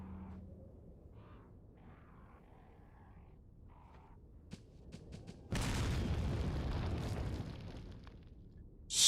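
A grenade detonates in the video game Resident Evil 4, a sudden loud blast followed by a sustained rumbling roar that fades over several seconds, with softer game effects before it.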